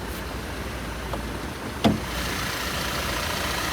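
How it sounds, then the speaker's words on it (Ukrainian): A 2010 Audi Q5 engine idles with a steady low hum at moderate volume, with a single faint knock partway through and no voices. "Двигун у нас працює ідеально."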